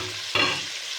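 Chopped tomatoes being stirred into ginger garlic paste frying in a pan for Chettinad chicken dum biryani, a sudden loud sizzling burst as they hit the hot oil, fading into a steady hiss, with no voices.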